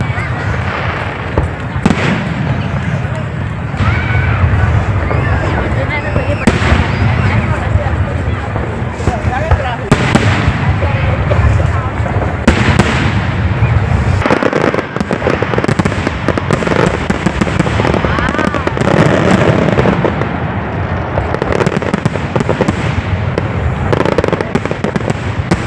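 Fireworks display at Al Naseem Park in Muscat, Oman, with a steady run of loud bursts and crackling pops going on for the whole stretch, crowd chatter underneath.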